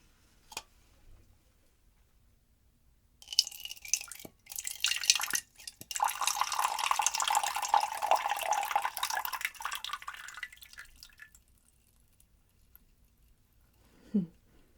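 Liquid poured steadily into a container while a drink is mixed behind a bar, a continuous splashing stream that runs for several seconds after a few light clinks and taps, then tapers off, with a short low knock near the end.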